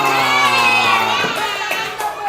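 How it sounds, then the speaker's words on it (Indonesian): A classroom of children cheers and shouts for a group that answered a geography quiz correctly, a loud, continuous burst of excited young voices that trails off slightly toward the end. "Kasih tepuk tangan dulu untuk kelompok ini."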